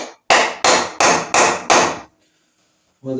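Five sharp hammer blows land in a steady rhythm on the cylinder head of a 1975 Triumph Trident T160 motorcycle, loud and close, followed by quiet and then a brief sound at the end.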